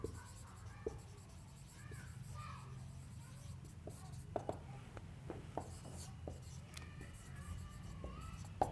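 Pen writing on paper while working out the oxidation method for distinguishing primary, secondary and tertiary alcohols: faint, close scratching and tapping strokes in an irregular rhythm, with a low hum beneath.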